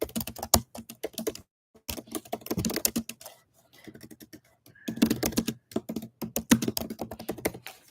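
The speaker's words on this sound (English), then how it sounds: "I can't type today" Rapid bursts of typing on a computer keyboard while writing a one-off email, dense clusters of keystrokes broken by short pauses, close and clear with no talk.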